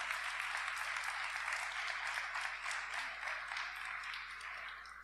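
Church congregation applauding together, a dense sustained wash of clapping that holds steady for several seconds before easing slightly at the end.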